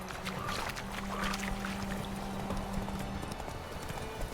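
Horse hooves clip-clop at a steady walking rhythm in The Witcher 3, a continuous moderate patter under a low steady hum and ambient game noise, with no voices.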